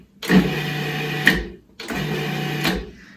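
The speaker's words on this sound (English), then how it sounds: "now I'm going to pulse this again just to kind of get the oil and the dry ingredients mixed" A food processor pulses twice, mixing oil into dry Parmesan cracker dough, each pulse a loud steady whir of motor and blade lasting about a second with a brief pause between.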